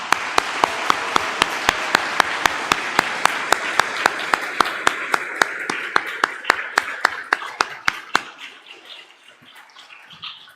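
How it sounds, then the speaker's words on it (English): Applause from a church congregation for departing parish families, steady and dense at first with sharp individual claps standing out, then thinning and fading toward the end. "Let's give them a round of applause."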